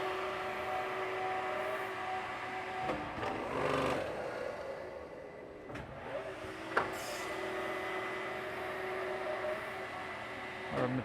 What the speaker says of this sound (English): Our material's coming out here at our bending unit, so we're going to start start making these bends.